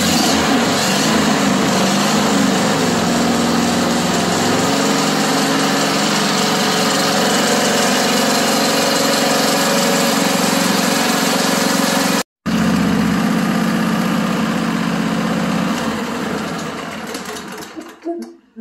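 A John Deere mower engine just started after an oil filter change, running loud and steady at idle for most of the clip with a brief dropout, then fading as it winds down.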